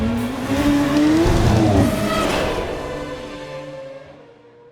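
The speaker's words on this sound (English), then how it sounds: "The ideal opportunity to step on the gas." A race car in the video game Mafia (2002) accelerates hard down a banked turn, loud engine whine rising in pitch with a brief tire squeal before the sound fades away.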